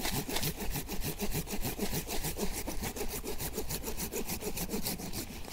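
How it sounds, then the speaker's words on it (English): A handsaw cutting an invasive plant stump in Florida, with fast, steady back-and-forth rasping strokes heard close up throughout. "Okay, so I'm gonna cut the stump with my handsaw."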